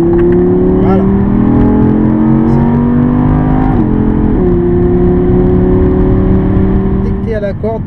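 A car accelerating hard on a race track during a Pirelli PZero driving experience: a loud, close engine drone climbs steadily in pitch, dips briefly as it shifts, then keeps pulling upward.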